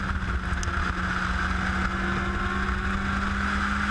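A race car engine drones at high revs while the driver pushes hard through a bend at Laguna Seca, a steady, close, unbroken roar with wind noise and no talk over it.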